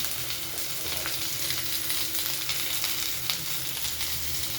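Boiled dal frying in a pan as ground turmeric goes in, for a cucumber dal fry, gives a steady, close, loud sizzle with scattered crackles and faint stirring throughout, no voices.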